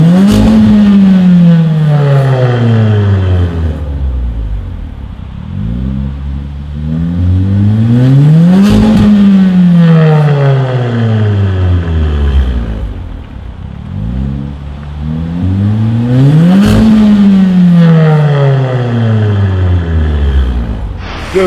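A VW Golf R MK7 fitted with an Armytrix exhaust revs loudly up and down in three long sweeps, the engine note climbing and falling repeatedly with a close, booming roar.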